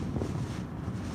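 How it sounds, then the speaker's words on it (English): Strong wind roars and buffets a microphone in a continuous, rumbling rush with no voices, in Key Largo with 50 mph sustained winds and 65 mph gusts coming onshore. "really intense winds, 50 sustained, gusts of 65 coming on shore now"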